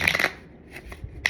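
A deck of cards being shuffled in a short, close burst of riffling, then a brief quiet gap and a second quick flick of cards at the end.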